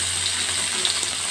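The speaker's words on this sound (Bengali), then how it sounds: "এবার আমি একে একে সবজিগুলো ছেড়ে দেবো।" Vegetables dropping into hot oil tempered with radhuni and bay leaf give a loud, steady, close sizzle that fills the whole moment without pause or voices.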